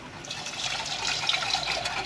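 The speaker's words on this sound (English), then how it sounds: "you add your milk" Full fat milk pours steadily into a pan for a cheese sauce, making a continuous soft splashing, bubbling trickle close by for about two seconds with no talking.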